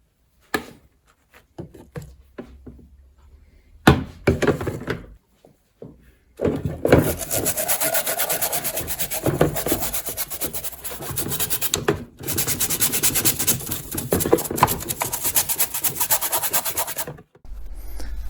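Vintage 1960s Ferranti PT1031 transistor radio grill cloth being scrubbed: quiet scattered rubs at first, then long stretches of loud, close, steady rasping scrubbing with a couple of brief pauses.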